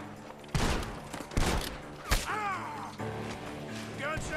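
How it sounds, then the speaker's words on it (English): Several sharp gunshot cracks ring out in quick succession from a barn in Red Dead Redemption 2, with whooshing, whistling effects between them. "Gunshots are coming from that barn."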